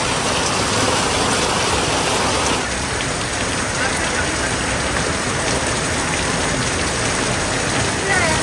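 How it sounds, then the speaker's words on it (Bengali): Heavy rain pours steadily in a dense, loud hiss, with water running and dripping off a roof, continuous throughout with no talking. "চাল থেকে পানি পড়ে কেন"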